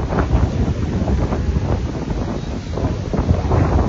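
Strong wind gusts across a seaside park in Charleston, South Carolina, producing a steady, loud, rumbling roar with the buffeting of wind on the microphone. No one speaks.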